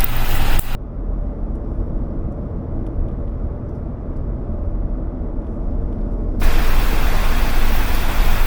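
Steady broadband road and engine rumble from a car cruising a scenic Colorado mountain road, continuous and fairly loud throughout, with a brief muffled stretch in the middle where the high hiss drops away before the full road noise returns.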